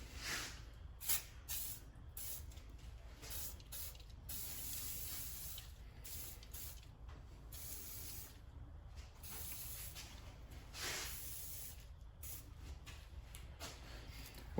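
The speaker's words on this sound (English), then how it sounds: "Let's get her sprayed down." Bursts of spray hissing onto a Vevor mini lathe being cleaned of flash rust, a series of short and longer sprays with brief gaps, fairly faint and close.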